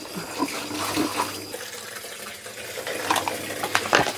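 Running water used for rinsing at a home wash area, a loose splashing and trickling with occasional clinks and bumps, fairly close and continuous without talk.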